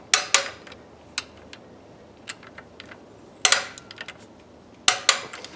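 Sharp metallic clicks and clanks come from a wrench tightening 12-point 3/8 bolts on a vintage air compressor bracket, sounding in short irregular bursts close by with quiet gaps between.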